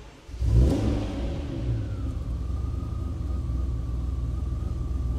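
Ferrari Testarossa flat-12 engine giving a quick rev up close, then settling into a steady, loud rumbling idle with a faint whine running alongside.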